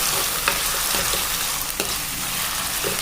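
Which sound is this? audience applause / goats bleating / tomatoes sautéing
tomatoes sautéing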